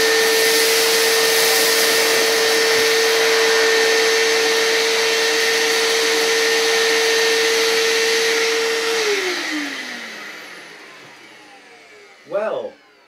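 A Hoover Microspace SC110 bagged cylinder vacuum cleaner runs close by with a loud, steady whirring roar and a constant whine. After about nine seconds it switches off and its pitch slides down as the motor winds down, followed by a brief bump near the end.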